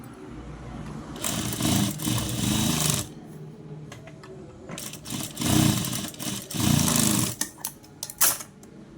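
Sewing machine stitching double lines on a blouse front, running in close, steady bursts of a few seconds with short pauses between, then a quick series of shorter runs near the end.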